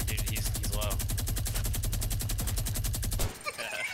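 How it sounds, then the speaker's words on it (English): Gatling gun in a video game firing a long, loud, unbroken rapid burst of evenly spaced shots for about three seconds, then stopping abruptly, followed by softer game noise. "The Gatling gun kills."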